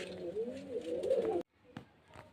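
Young red-bordered pigeons at a pigeon seller's place coo close by in a soft, warbling run that stops abruptly, followed by faint rustling and a quieter coo.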